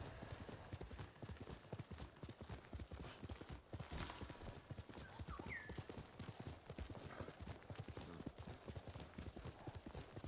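Horse hooves gallop in a fast, steady clip-clop rhythm, loud and close, as a rider crosses terrain in Ghost of Tsushima, with a brief whinny partway through.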